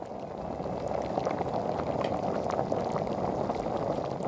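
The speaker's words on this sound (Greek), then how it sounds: "χαμηλώνω τη φωτιά και αφήνω να σιγοβράσουν για περίπου 20 λεπτά με κλειστό καπάκι" Pastitsio sauce with bay leaf and cinnamon simmering in a covered pot, a steady dense bubbling crackle at even loudness throughout, close and uninterrupted, with no talking.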